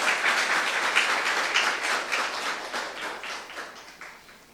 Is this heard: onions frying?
no